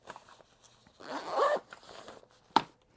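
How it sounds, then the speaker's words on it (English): A zipper on the front pouch of a Peak Design travel bag is pulled closed in one long drawn stroke, followed by a brief sharp zip tug, close and fairly quiet with no talking. "let me zip this back up so that you can see it in all its glory"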